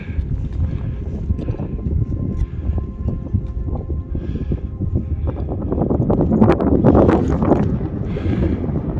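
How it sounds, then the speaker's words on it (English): Wind gusts across the microphone on the summit of Càrn Mòr Dearg, a rough low rumble that builds and buffets harder toward the end, with no speech. "as you can probably hear, the wind's picking up a little bit"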